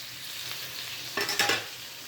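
Garlic cloves sautéing in a pan make a soft, steady sizzle, then a brief burst of louder crackling and stirring scrapes near the middle before settling back.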